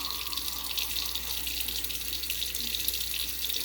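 Hot water runs steadily from a bathroom tap into a sink during a shave, rinsing off shave cream with a 1920s Gillette razor; a continuous close hiss of flowing water with no talking.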